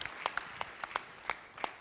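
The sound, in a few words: audience round of applause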